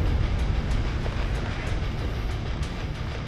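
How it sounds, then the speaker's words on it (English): A train in the video game Necromunda Hired Gun gives a loud, steady rumbling rattle with faint rhythmic clatter, filling the whole moment without speech. "Go! Jump on that train!"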